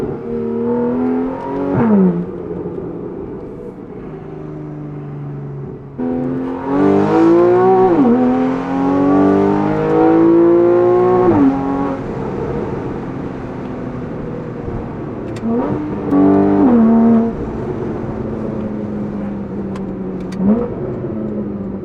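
Porsche 911 Carrera 4S of the 991.1 generation fitted with a Valvetronic Designs exhaust, loud and close as the engine revs repeatedly and falls back on overrun, with crackles and pops between the rises, and nobody speaking.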